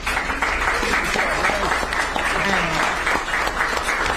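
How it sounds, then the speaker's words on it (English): Steady applause from a town hall audience at Fresno State, dense clapping that carries evenly throughout with a faint voice or two mixed in. "Can we give a round of applause to our panel?"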